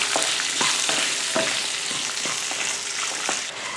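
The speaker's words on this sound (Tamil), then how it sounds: "ரெண்டு வரமிளகா ஒரு அஞ்சாறு பல் சின்ன வெங்காயம் ஒரு ரெண்டு துண்டு பெரிய வெங்காயம் நாலு பல் பூண்டு ஒரு சின்ன துண்டு இஞ்சி கொஞ்சமாக புளி சேர்த்து இதை வதக்கி விட்டுருவோம்" Dried red chillies, shallots, onion, garlic, ginger and tamarind sautéing in a pan for chutney: a steady close sizzle with regular stirring scrapes and taps roughly every half second.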